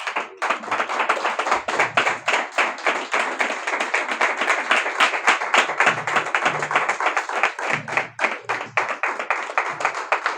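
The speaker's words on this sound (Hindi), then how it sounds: "सब प्रभु को महिमा की तालियां देंगे।" A church congregation in Jammu claps hands together in a fast, steady rhythm of sharp, closely spaced claps that continues for the whole stretch, with no speech over it.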